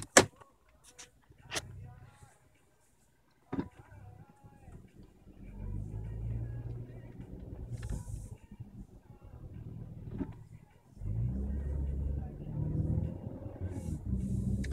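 A Kia Stinger starts with a few sharp clicks and thumps inside the cabin, then a low engine rumble rises and falls as the car drives around, with quiet stretches between.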